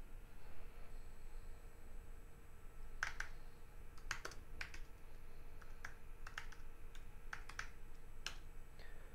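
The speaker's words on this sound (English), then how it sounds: "when I typed in the touch command" Keystrokes on a computer keyboard while entering a touch command at the command line: sparse, quiet clicks in short clusters over a steady hiss, with no talking.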